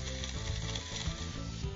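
A Magic Bullet blender whirs through berries, ice, banana and juice, a dense steady motor roar with gritty churning texture throughout, close and loud with no talk.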